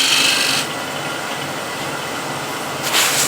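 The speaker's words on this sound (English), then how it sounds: "now with the spindle gouge, I'm going to make slightly smaller base here" Spindle gouge cutting a wooden bowl on a lathe, a loud rasping scrape for about half a second, a quieter whirring of the spinning lathe, then another short burst of cutting near the end.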